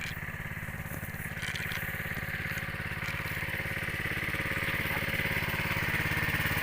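A small engine-driven water pump, drawing water from a rice paddy, runs steadily with a throbbing, rhythmic chug, loud and close, continuing without pause.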